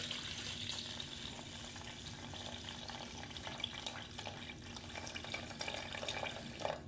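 Water runs steadily into an Aroma 6-cup rice cooker's pot of rinsed rice, a continuous soft gushing and splashing at low volume for several seconds.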